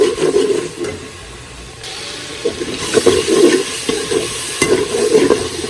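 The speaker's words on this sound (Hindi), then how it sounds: "लहसुन की बुनाई करते हैं थोड़ी सी, ताकि कच्चापन खत्म हो जाए।" Green chilli and garlic paste being sautéed in a pot for vegetable pulao, with a steady close frying sizzle and repeated scraping stirs of a spoon through the paste, no voices present.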